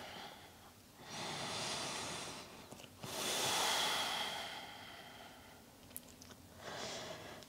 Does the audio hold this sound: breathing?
yes